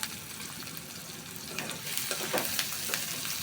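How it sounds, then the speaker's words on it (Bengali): Green chillies, garlic and onion fry in hot oil in a pan, giving a steady loud sizzle with scraping stirring strokes throughout. "কাঁচা মরিচ আর রসুন আর পেঁয়াজ দিয়ে দিচ্ছি"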